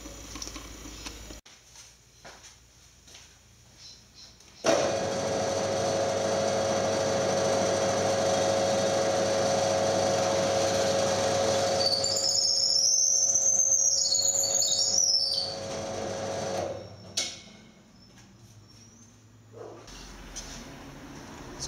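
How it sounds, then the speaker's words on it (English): A power drill bores bolt holes through wooden tripod parts, its steady motor whine running loud for about ten seconds, with a thin high squeal near the end before it stops. "So I just finished drilling the holes for the bolts"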